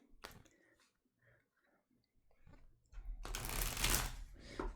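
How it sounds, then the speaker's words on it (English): Soft taps and clicks of tarot cards being handled, then a loud ruffling burst of the tarot cards being shuffled close up. "Let's do a little shuffle here."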